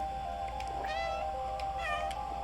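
A cat meows twice in the video game Stray, two clear, drawn-out mews over a steady low electronic hum and background tone.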